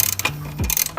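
A ratchet wrench loosening 10 millimeter bolts on the shield of a 2008 Kia Sportage, a quick close run of clicking ratchet ticks over about a second, with no talking.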